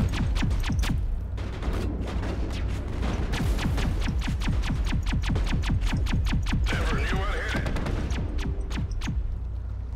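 Rapid gunfire from the Mass Effect video game during a point-capture simulation, a loud, continuous rattle of closely spaced shots running the whole time with no pauses.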